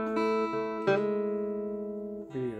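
Guitar plays a short twelve-bar blues figure, a few plucked notes ringing and sustaining over under three seconds, quiet and alone.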